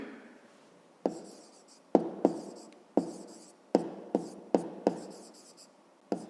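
Pen or pencil writing on paper during a 5th-grade math lesson, a series of short, distinct scratching strokes in bursts, close and fairly quiet, with no talking.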